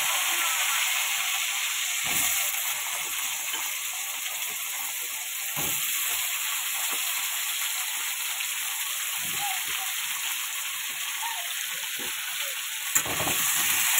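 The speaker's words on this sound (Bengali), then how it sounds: "আলুটাকে এবার একটু লাল লাল করে ভেজে নেবো" Chopped potatoes fry in spiced oil with a loud, steady, even sizzle close by, marked by a few soft stirring knocks; no one speaks.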